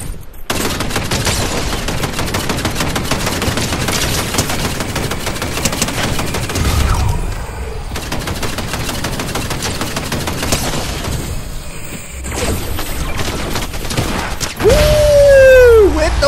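Rapid gunfire in Fortnite during a Chapter 5 Season 3 live event, dense sustained bursts of shots with brief gaps, loud and close, ending in a whistling sweep.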